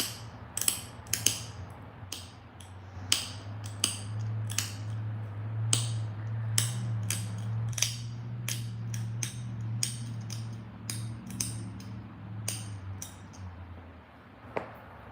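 Stone is being flint knapped into an arrowhead, with a string of sharp, close clicks and taps from pressure flaking repeated at an uneven rhythm over a low background hum.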